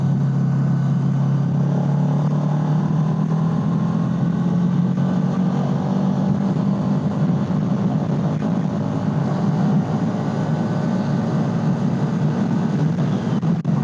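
A motorcycle engine drops from about 7000 rpm under engine braking as the throttle closes and the rider downshifts, a steady, loud, close drone with continuous low rumble throughout, no talk over it.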